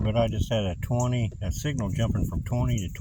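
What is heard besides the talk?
None of the usual background noises is heard.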